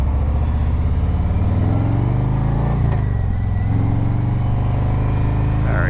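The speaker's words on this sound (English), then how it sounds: "right here out on the Harley Davidson motorcycle, the 2018 Road Glide Ultra" A 2018 Harley-Davidson Road Glide Ultra motorcycle rumbles steadily at close range as it is ridden through stoplight traffic, its deep engine note shifting briefly in pitch midway before settling back into a continuous loud drone.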